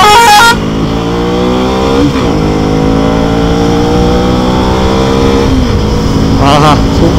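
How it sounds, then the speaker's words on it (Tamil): A vehicle horn gives a short, loud blast on a hill road up to Yercaud, heard from a motorcycle ride, followed by a steady droning engine and road noise with a faint second honk near the end. "ஹார்ன் அடிக்கிறார் பேர், நிறுத்தி போக சொல்கிறாருல."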